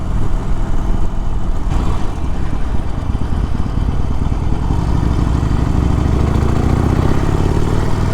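A 2021 Harley-Davidson Iron 1200 Sportster motorcycle being ridden, a loud steady engine drone with wind rush and a rising pitch toward the end, no voices.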